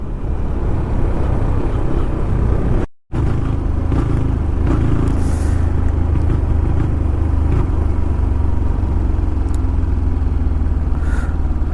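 A TVS Raider motorcycle being ridden on a mileage test at night, with a steady, loud engine drone and rushing road and wind noise throughout, briefly cut by a short dropout early on.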